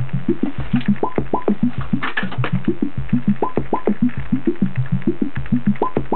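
A simple analog synthesizer step sequence of short, plucky pitched notes repeating in a steady, looping rhythm, played through a speaker, with no talking.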